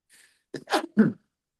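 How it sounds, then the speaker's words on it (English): A faint breath, then a burst of two or three harsh, close coughs in quick succession, ending in silence. "I cough right on time"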